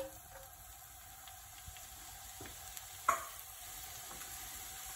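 Chopped onions frying in a pot with melted fat for lentil soup, giving a soft, steady sizzle and hiss, with a brief louder stir or scrape near the middle.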